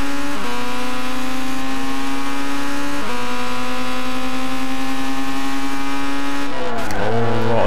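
Red Bull X2014 Junior race cars in a racing video game drone loudly and steadily at high revs, the engine pitch holding for several seconds, dipping briefly twice as the car shifts, then dropping and rising again near the end.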